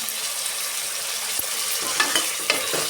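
Vegetables and double beans fry in hot oil for pulao, a steady broad sizzle with a few soft stirring scrapes near the end.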